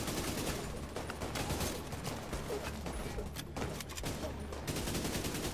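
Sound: machine gun fire in the video game The Division 2

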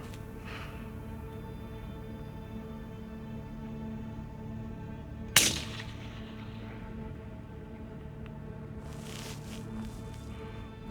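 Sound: rifle gunshot at long range

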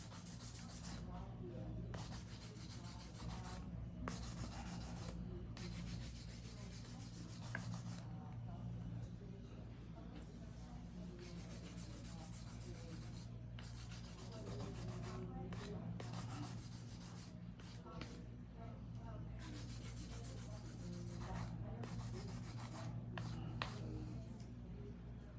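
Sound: hand filing acrylic nails with 100/180 nail file

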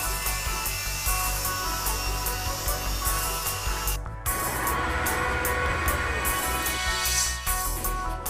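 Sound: belt grinder with Trizact belt grinding

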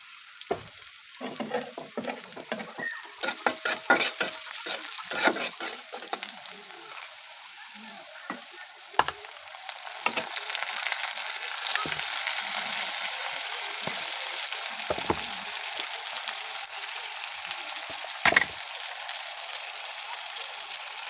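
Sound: onion frying in oil in a wok

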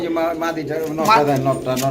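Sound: velvet pigeons cooing

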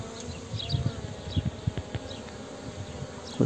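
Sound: honeybees buzzing around a hive

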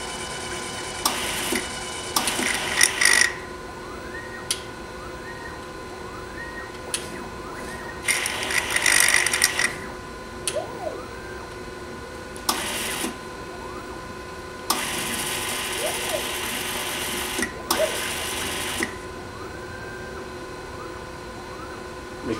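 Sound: pump sucking out wastewater in discrete analyzer

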